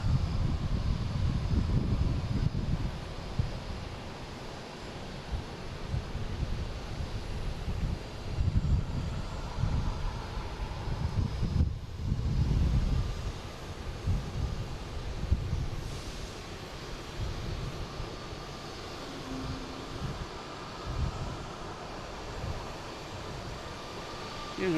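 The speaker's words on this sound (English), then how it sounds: "Next to arrive is a JetBlue coming in from Cleveland, an A220, flight 640." A JetBlue Airbus A220 airliner arriving at Boston Logan, a steady low jet roar mixed with wind buffeting on the microphone, fairly distant and continuous without talk.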